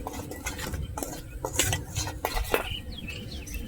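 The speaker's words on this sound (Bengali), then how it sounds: "এটাকে ভালো করে মিশিয়ে নেব" A spoon mixing gram flour with salt and turmeric in a bowl, rapid close clinks and scraping of metal on the bowl in an uneven rhythm, with a faint bird chirp in the background and no talk.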